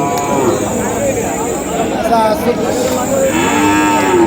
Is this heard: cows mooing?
yes